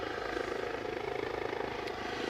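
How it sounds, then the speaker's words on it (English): A helicopter at Aberdeen airport drones steadily with a continuous pulsing rotor chop, fairly loud and constant throughout, with no voices over it. "Sounds like that chopper."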